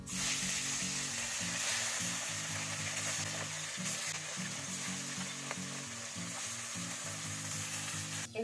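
Tangra fish frying in hot oil in a kadai, a steady loud sizzle and crackle that runs unbroken, with no voices over it.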